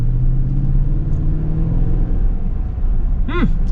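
A Toyota Tundra TRD pickup's V8 engine rumbles steadily nearby as it accelerates, low and continuous, with a brief higher whine near the end.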